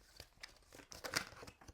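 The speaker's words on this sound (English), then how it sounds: "I'm going to shuffle the cards a little bit" Someone shuffles a deck of cards by hand, producing soft papery riffles and crinkly flicks in short irregular bursts, quiet and close, with no speech.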